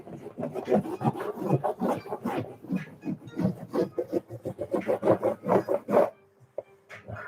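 Surf wax being rubbed onto a surfboard in small ovals gives a steady, close, rhythmic scraping with quick repeated strokes that speed up toward the end before stopping.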